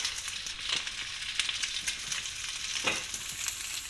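Pieces of octopus fry in a pan over strong heat, a steady faint sizzle and crackle with occasional stirring scrapes, no voices.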